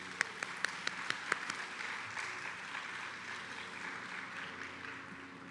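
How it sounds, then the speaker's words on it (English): Applause at an awards recognition dinner opens with a few sharp, distinct claps before settling into a softer, sustained wash of clapping from the seated audience. "Let's give them a round of applause."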